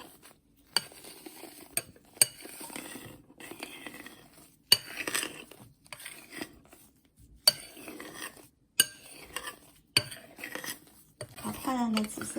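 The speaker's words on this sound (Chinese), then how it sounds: "轻轻搅拌一下。" Blueberry jam is stirred gently into egg whites in a bowl for baby snacks, a utensil clinking and scraping against the bowl in repeated close strokes separated by short pauses.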